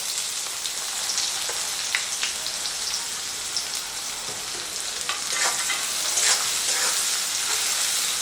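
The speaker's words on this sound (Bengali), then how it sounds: "পেঁয়াজটা হালকা করে ভেজে নেব।" Steady close-up sizzling and crackling of chopped onion frying in a hot pan with green chilli and ginger, with occasional pops and stirring, no voices.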